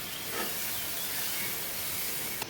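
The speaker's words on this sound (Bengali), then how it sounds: "এখানে পুরোটা দুধ দিয়ে দিলাম" Milk poured into hot egg roast masala in a pan gives a steady, even hiss that carries through the whole stretch, ending with a brief sharp click.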